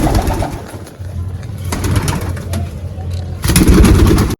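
Paired pet pigeons coo in a loft, close and fairly loud, in repeated low throaty calls, with some background noise and a busier burst near the end.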